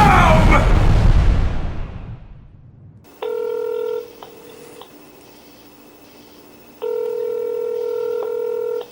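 A telephone keypad dials out in clear touch-tone beeps, arriving as two separate runs of quick, steady tones after a brief stretch of fading noise.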